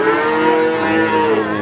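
A cow at a cattle market in Magetan, East Java lets out one long, loud, close moo that holds steady throughout, without any talk.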